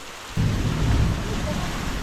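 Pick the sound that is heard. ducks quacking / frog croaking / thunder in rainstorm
thunder in rainstorm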